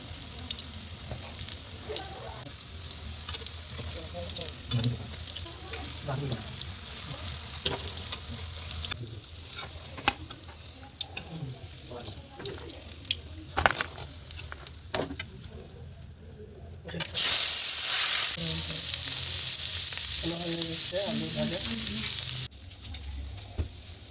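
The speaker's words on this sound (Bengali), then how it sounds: "তো এরকম করে সবগুলো আমি ভেজে নেব।" Soybean chunks fry in hot oil with a steady crackling sizzle and occasional stirring clatter. A sharp, louder burst of sizzling flares up late on, with faint bird cooing in the background.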